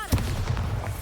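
Bombarda exploding spell in the video game Hogwarts Legacy, a short sharp boom that quickly breaks into a rolling, crackling echo with a few smaller pops after it.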